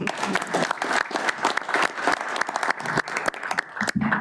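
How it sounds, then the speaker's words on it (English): Attendees at a technical advisory committee meeting give a round of applause, a moderate group of distinct, closely spaced hand claps continuing steadily before trailing off, with a voice faintly audible. "another round of applause for you"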